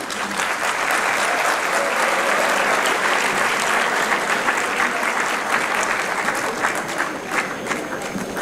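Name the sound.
standing applause at conference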